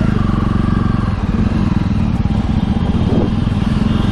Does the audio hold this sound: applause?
no